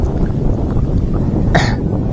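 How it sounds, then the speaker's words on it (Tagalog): A single short cough rises abruptly from heavy outdoor wind and rumbling background noise, close to the microphone, from a person with a fever and cough who missed going out diving at sea. "Inuubo ako"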